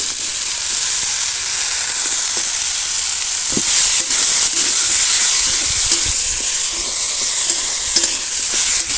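Cabbage and potatoes sizzle and hiss steadily in hot spiced oil for a Bengali cabbage dish, with occasional stirring scrapes and clinks close by, no voices.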